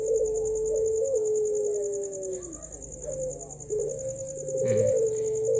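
A pelung turtle dove coos with repeated low, resonant calls close by, while a steady high insect-like whine runs underneath throughout.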